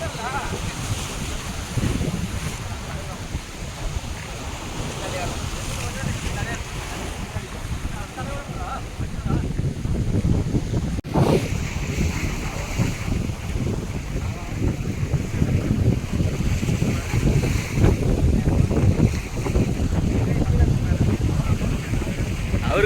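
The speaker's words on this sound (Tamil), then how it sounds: "கடல் சத்தத்தில் ஒன்றுமே கேட்காது" Wind and sea waves wash steadily over an open fishing boat at sea, a loud, continuous broadband roar that swells slightly partway through, with faint voices in the background.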